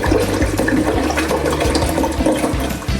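Mountain spring of drinking water pouring steadily, a close, continuous gush and splash with no pauses and no voices.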